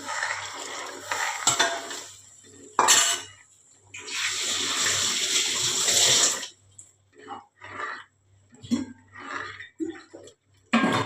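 A spoon stirs a chickpea flour kadhi mixture in a pot, with bursts of scraping and sloshing against the metal. The bursts are followed by lighter clinks and a voice talking between them.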